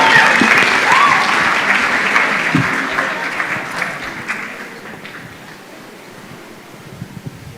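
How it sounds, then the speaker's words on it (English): An audience at the Kenya National Research Festival 2024 gives the team from Joytown dense, loud applause that gradually fades to scattered claps by the end. "Another round of applause for the team from Joytown."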